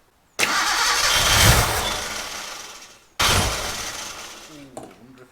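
The engine of a Gilbern Invader Mk3 barn find is cranked twice in two long bursts, the starter churning loudly without the engine catching, and a short gap of quiet falls between the attempts. Voices follow briefly at the end.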